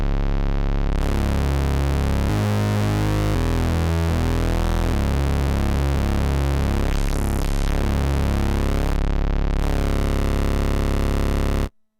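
A Modbap Osiris synthesizer module holds a loud, thick, harmonically rich tone that is dropped an octave lower. It runs continuously with shifting pitch steps and a short swooping sweep near the middle, then cuts off at the end.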